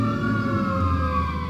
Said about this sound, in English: And there's more sirens.